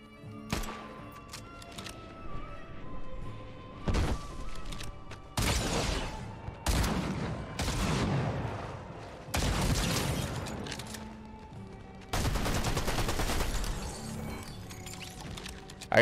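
Gunfire from an SMG fired from the hip in the Fortnite Chapter 5 Season 2 video game: several short bursts of loud broadband shots spread across the clip, with quieter mechanical game sounds between them and no talk.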